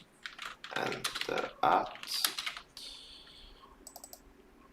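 Computer keyboard typing during a live forex and binary options trading session, a fast run of close, clattering key presses with faint speech near the start.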